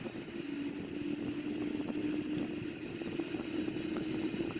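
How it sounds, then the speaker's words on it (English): A Boeing 787-9 jet engine on the right wing spools up and runs, a steady low drone with a faint whine, continuous and moderately loud with no talking. "So the right wing engine is ready and running."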